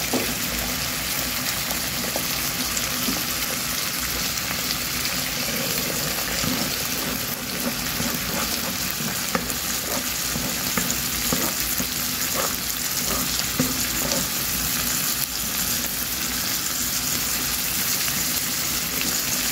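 An egg fries in a pan alongside tomatoes with a steady, continuous crackling sizzle that stays even and close throughout, with no voices over it.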